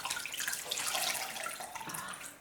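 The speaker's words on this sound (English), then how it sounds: "Sound of water, isn't it lovely?" Water running from a tap during a bathroom beauty routine, a steady close splashing hiss that fills the whole stretch with no talk over it.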